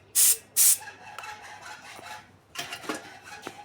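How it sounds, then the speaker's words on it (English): A spray gun used for painting cars in a solar-powered workshop gives two short, loud hissing bursts, followed after a quieter stretch of light handling noises by a longer, rougher run of spraying. "and also the spray paint."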